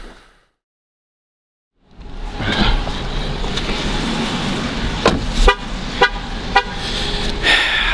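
After a brief silence, a car's horn gives several short, sharp toots over steady engine and road noise, heard from inside the car during a drive through Canada.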